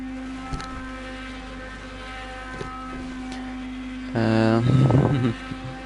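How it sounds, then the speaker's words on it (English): An IndyCar engine in a racing video game revs up sharply near the end, a loud buzzing harmonic whine climbing over a steady low hum before fading, with no talk. "you can just listen to that engine go"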